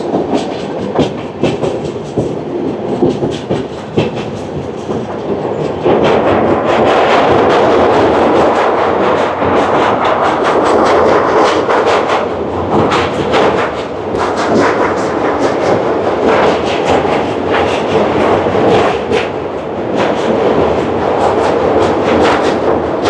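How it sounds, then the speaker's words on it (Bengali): Shatabdi Express running at speed between New Jalpaiguri and Howrah, heard from inside a Vistadome coach: a loud, continuous rumble with steady clickety-clack of wheels over rail joints, growing fuller after the first few seconds. "আমাদের ট্রেন এখন ভালোই স্পিড নিয়ে নিয়েছে"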